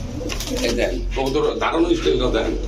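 Pigeons coo steadily at a busy market selling racer, Danish and Lahori birds, the soft throaty calls running throughout beneath nearby talk.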